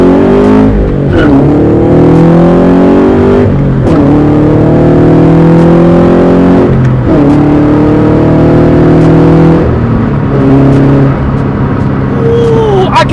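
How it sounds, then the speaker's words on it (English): A Subaru BRZ / Toyota GT86 / Scion FR-S engine fitted with a Perrin cold air intake revs several times, each loud close rise in pitch falling back to idle in a repeating pattern. "Let's let the car warm up a little bit more before I give it a little bit more gas."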